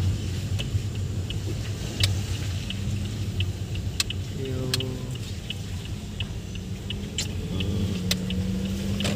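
A Toyota Vios on a test drive after a shift solenoid repair, with a low steady engine hum and road rumble, and a rising whine as it pulls through a gear change, plus scattered light ticks and clicks.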